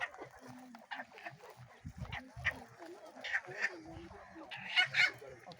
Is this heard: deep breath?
no